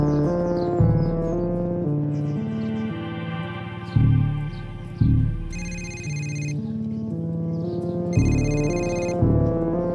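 A telephone rings in repeated bursts with an electronic ringtone, steady and fairly close, alone without talk.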